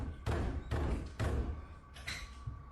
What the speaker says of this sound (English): The banging then continues all over again, signifying that the figure is still lurking.